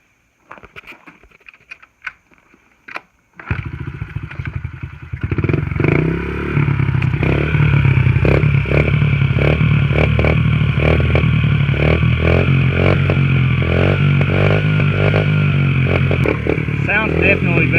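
Honda XR50 pit bike with an aftermarket exhaust pipe: a few clatters and kicks, then the engine fires up and settles into a loud, steady, buzzy idle with slight rev changes that runs to the end.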